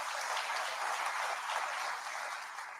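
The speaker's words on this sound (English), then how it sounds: "And the big applause to all of you." Audience applause at a railway app launch event with the Railway Minister, a dense steady wash of clapping from a sizable crowd that holds level and then tapers slightly toward the end, with no talk over it.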